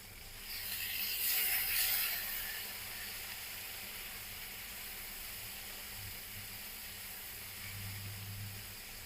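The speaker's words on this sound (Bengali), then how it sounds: "এখন ভালো করে আলু আর এবং বেগুনটা ভালো করে ভেজে নিতে হবে।" Potato and eggplant frying in hot oil make a soft, steady sizzle with a brighter hiss burst in the first couple of seconds, then a quieter even crackle with no voices.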